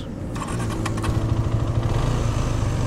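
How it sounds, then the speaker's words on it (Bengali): A Hero Karizma XMR 210 motorcycle engine catches with a brief cranking start and settles into a loud, steady, close-up idle with an even mechanical throb. "আগে বাইকটা স্টার্ট করি, এরপরে বাদ বাকি এক্সপিরিয়েন্সটা শেয়ার করি।"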